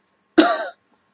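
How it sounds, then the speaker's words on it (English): A single short, sharp cough sounds close and clear in otherwise quiet surroundings. "The heck am I coughing up? My lungs?"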